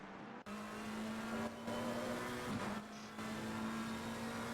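GT race cars, a McLaren and a Ferrari battling for second place at Misano in a six-hour endurance race, drone past with a steady engine note throughout, one short dip in the sound near the start.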